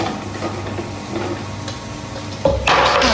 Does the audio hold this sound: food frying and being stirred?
yes